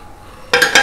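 A metal lid set onto a cooking pot of simmering vegetable curry in a home kitchen, giving two quick close clinks less than a second apart.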